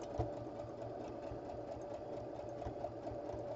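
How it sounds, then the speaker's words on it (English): A sewing machine stitches quilt squares together in a steady, rapid mechanical rhythm, running continuously at close range with no talk. "I've just about got those four squares sewn together"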